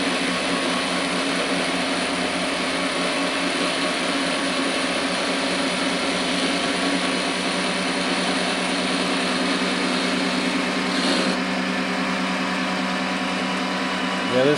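A Grizzly G0781 mill motor runs steadily while its shaft is turned square and concentric, giving a continuous loud mechanical whine and drone that holds level throughout with a brief shift near the end.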